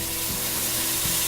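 Buttermilk tiger nut bread batter sizzles and crackles steadily in a hot preheated pan, a dense, close, continuous frying hiss with no talk.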